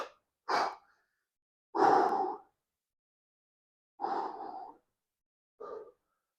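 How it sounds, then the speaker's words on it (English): Heavy, labored breathing of a man recovering from a 185 lb shoulder log press in a home gym, four loud separate exhales and gasps with silent pauses between, close to the mic. "Trying to breathe."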